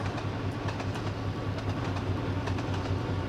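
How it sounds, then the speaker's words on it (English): A steam locomotive runs fast in the Trainz Plus railway simulator, giving a dense, steady rumble with a low engine drone and faint rhythmic rail clatter, heard alone without talk. "that was a steam locomotive doing that"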